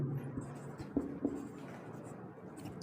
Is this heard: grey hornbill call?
no